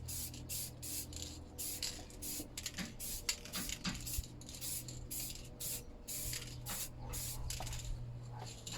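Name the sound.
rattle can spray paint, light dusting coat on alloy wheel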